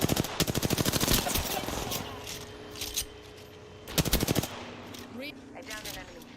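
Rapid automatic gunfire bursts rattle in Apex Legends, loud fast volleys at the start and again midway, with quieter single shots and game sound effects between them.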